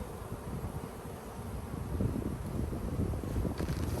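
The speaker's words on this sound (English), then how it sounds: "I see a bunch of white bees flying everywhere." A low, continuous buzzing of many bees around a hive during an inspection hums steadily alongside rushing wind noise, with no talking.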